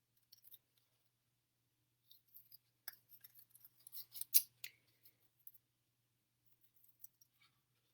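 Scissors snip close by while fussy cutting paper shapes, in short scattered clusters of quiet crisp cuts with silence between them.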